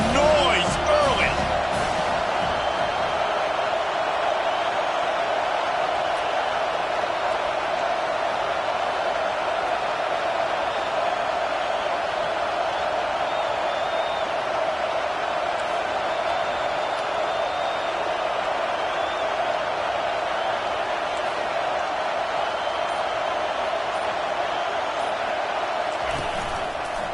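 Steady, loud stadium crowd roar in a Madden football video game, a continuous wash of cheering and noise that holds evenly for the whole stretch with no gaps.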